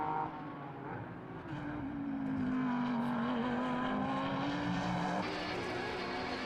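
Race cars including a McLaren, a Toyota and a Porsche lapping SUGO circuit in Japan Cup racing, a loud engine note sweeping up and holding through a pass with other cars droning behind.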